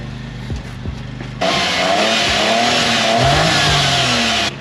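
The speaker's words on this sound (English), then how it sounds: "hit the throttle a bit" Opel Agila engine with a newly fitted exhaust, idling briefly and then revved hard into a steady, loud, close-up roar that holds for several seconds before dropping.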